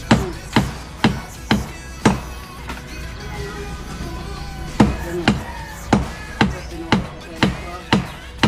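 Nails are hammered into wood in quick regular strikes, a pause in the middle before the blows resume, with voices talking nearby between and under the hammering.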